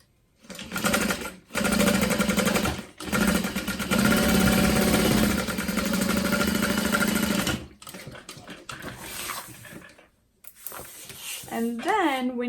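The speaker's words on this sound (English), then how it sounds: "And then I'm going to sew across" A sewing machine sews across a pocket on a Boronia bowler bag in a loud, steady run of several seconds, then in shorter stop-start bursts, with a voice speaking near the end.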